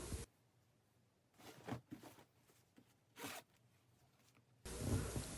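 A zipper on a freshly sewn hooded sweat jacket being handled, with a few soft, brief zipping and rustling strokes in a quiet room.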